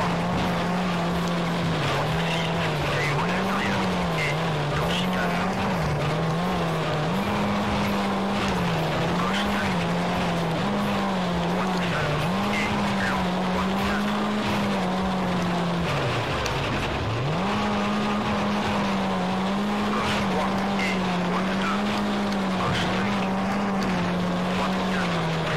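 Rally car engine droning steadily with a wavering pitch through World Rally Championship III, tyres skidding and sliding as the car loses grip on a slippery stage, with one brief drop around the middle.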